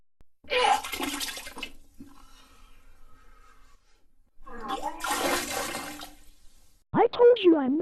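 A cartoon toilet flushes twice in a comic logo animation, each a loud gushing whoosh of about a second, separated by a stretch of quiet, and then a cartoon voice speaks.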